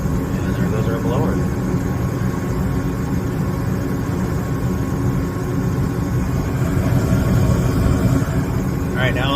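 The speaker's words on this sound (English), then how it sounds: "And there goes our blower." A furnace blower motor in an HVAC system runs with a loud, steady low hum and broadband rush that holds evenly throughout.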